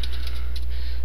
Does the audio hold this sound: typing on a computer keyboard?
yes